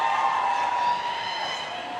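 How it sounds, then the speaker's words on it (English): Spectators at a roller derby bout between Nothing Toulouse and London Brawling shout together, a steady, loud wash of voices that eases off slightly toward the end. "Can hear the crowd shouting"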